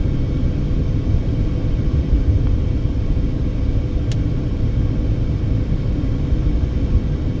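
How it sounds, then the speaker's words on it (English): A Southwest Airlines Boeing 737 coming in to land near a Las Vegas road makes a steady, distant jet roar blended into continuous low traffic rumble, with no voices. "Southwest Airlines 737 landing there in front of us"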